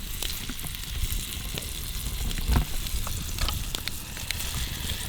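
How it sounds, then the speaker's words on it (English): Fish fries in a pan over a campfire at a wilderness camp, giving a steady, close sizzle with scattered pops and crackles and no voices. "we are doing a little fish fry on the fire."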